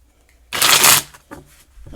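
A burst of card shuffling, a quick riffle lasting about half a second, followed by a softer flutter of cards being squared up.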